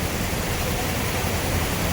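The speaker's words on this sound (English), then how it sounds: "This is Hogenakkal Waterfalls." Steady, dense roar of rushing water at Hogenakkal Waterfalls, a broad constant wash of noise filling the whole clip with no pauses.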